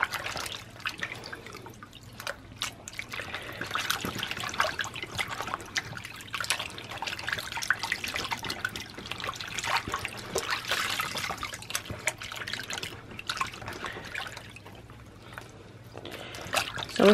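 Water trickles and drips continuously into a sink while sticky residue is rinsed from fiber art, a close, steady running flow with small splashes.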